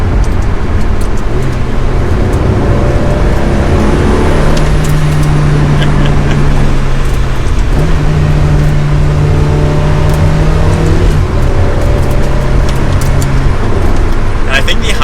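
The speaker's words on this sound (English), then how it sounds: "it's a loud car to be in for sure" A loud, constant engine roar and road rumble fill the cabin of a Ferrari 360 Challenge Stradale, with the engine pitch rising and holding steady while a voice talks over it.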